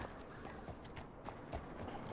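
Horse hooves clip-clop at a walking pace in the Red Dead RP western game, soft, faint and evenly spaced over a low background rumble.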